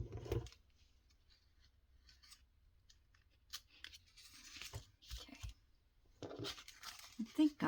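Scissors snip through junk mail paper in short bursts of crisp cutting and rustling, close but quiet, separated by pauses in a quiet room.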